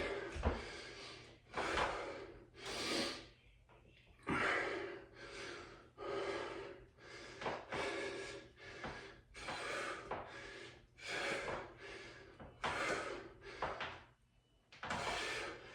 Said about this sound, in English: I'm breathing nice and deeply right now